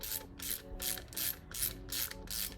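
A screw threads into a tapped 3D-printed part for a motorcycle brake build, giving seven evenly spaced ratcheting, gritty turns, close and fairly quiet.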